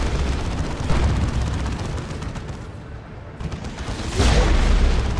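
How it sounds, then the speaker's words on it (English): A Demolisher Cannon fires in Dawn of War 2 during an Orks versus Imperial Guard battle, heavy booming blasts rolling over a dense wash of battlefield noise, with the loudest thump near the end. "The Demolisher Cannon misses or something."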